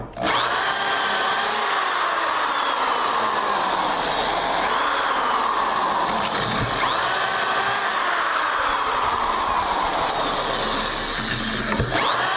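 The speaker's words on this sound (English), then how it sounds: "Now the drill collar has already been set to 3/4 penetration, so we drill" A power drill fitted with a collared bit bores dowel holes to a preset three-quarter depth in a wooden chair seat frame, a loud steady whine that dips briefly between four successive holes.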